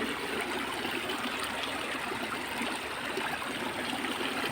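A small stream of water on a hillside hiking trail, a soft, steady trickling and gurgling flow heard nearby, quiet and continuous with no voices.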